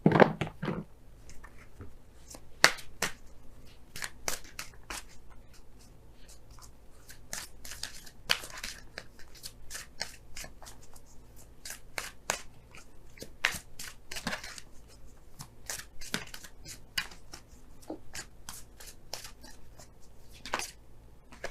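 Romance Angels oracle cards being shuffled and pulled during a tarot reading: a close, dry run of crisp snaps, riffles and soft shuffling clicks at an irregular pace, with no talking.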